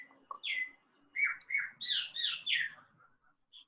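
Several bright, quick bird chirps and tweets come close together, some overlapping, over a quiet background during an online video call.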